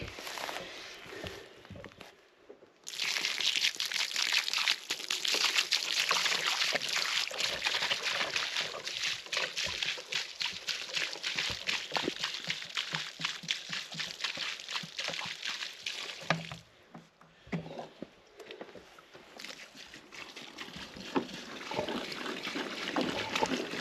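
Rainwater runs off a new roof and down a gutter in a steady, close trickling rush that drops away briefly near the start and again later, with a faint outdoor background.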